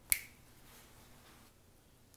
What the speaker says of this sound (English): Now I'm gonna snap my fingers again